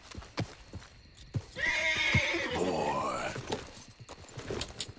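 A horse in Red Dead Redemption 2 lets out a loud, drawn-out whinny lasting about two seconds, with scattered hoof clops and game sounds before and after.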